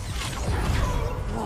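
Incendio fire spell cast in Hogwarts Legacy: a brief burst of whooshing, crackling flame and impact noise in the middle of combat, filling the short moment at moderate loudness.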